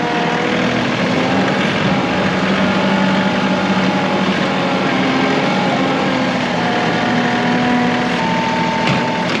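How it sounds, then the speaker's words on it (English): A John Deere 2038R tractor with a snowblower clears snow, its engine droning loud and steady throughout with a constant whirring roar from the blower. "Once again, the snowblower is going to be an invaluable tool."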